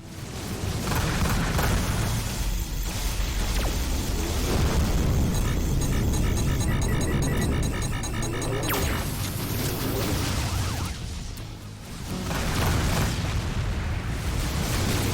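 Missile explosions in the space combat game Rebel Galaxy Outlaw, a sustained roar of loud booming blasts and rumbling crashes that keeps up almost without a break, dipping briefly before surging again.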